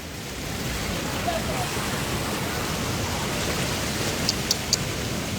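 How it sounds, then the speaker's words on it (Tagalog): Heavy rain pours down steadily over a flooded riverside area in Ambuklao, a continuous close hiss with a few faint drips and taps near the end. "Sana huminto na yung ulan para di tumas ang tubig"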